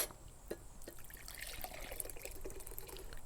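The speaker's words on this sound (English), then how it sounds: "Okay, so I'm gonna pour this back in." Reduced Hennessy and Coke marinade poured back into a bowl for smoked BBQ wings, a faint, close liquid trickle and splash that starts with a light clink and runs on quietly.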